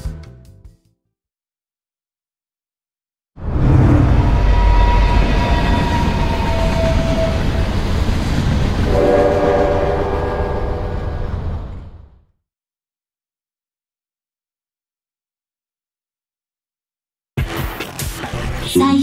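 A train departs in the video game Eternights, with a rumbling roll and rhythmic wheel clatter that holds for about nine seconds and then cuts off into silence.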